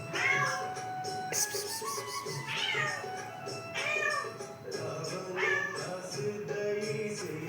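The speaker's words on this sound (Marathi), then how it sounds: "लई मांजर पण आली" Several cats meow repeatedly indoors at a home, with distinct close meows every second or so over quiet household background noise.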